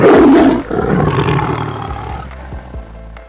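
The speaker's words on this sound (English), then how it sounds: "This is tiger." A tiger gives one deep, loud, close roar that swells at the start, then fades into rumbling growls and soft breaths, with nothing else heard.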